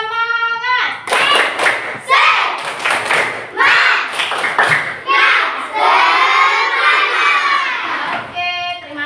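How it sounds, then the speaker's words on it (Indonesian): A classroom of Indonesian schoolchildren performs a spirit clap chant in a religious education lesson, loud rhythmic hand claps mixed with shouted chanting voices, close and energetic, after a brief teacher cue. "Tepuk semangat."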